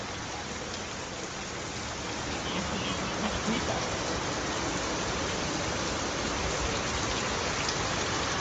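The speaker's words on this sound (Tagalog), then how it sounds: "Sarap po sarap paligong sa ulan." Heavy rain falls outdoors in a continuous, loud roar of drops. The wash stays constant throughout, with little else standing out above it.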